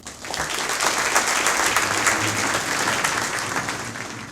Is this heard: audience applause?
yes